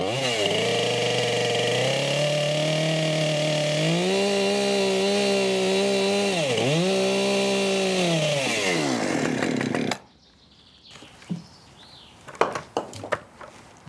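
A chainsaw cuts through wood for a homemade fountain trough, its engine running loud and close at steady high revs with two brief dips, then cutting off and leaving scattered clunks and knocks of wood.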